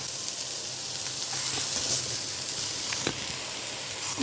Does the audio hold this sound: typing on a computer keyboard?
no